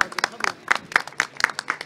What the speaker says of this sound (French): En tout cas, ils applaudissent